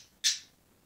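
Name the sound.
pet birds squawking and chirping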